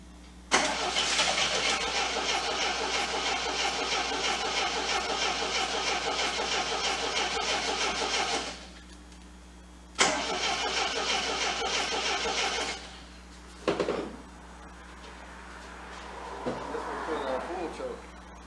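A 1979 Triumph TR7, long abandoned, cranks on half choke and fires, its engine catching and running for several seconds, cutting out, then restarting briefly with sputtering attempts; close and loud, with no talk over it.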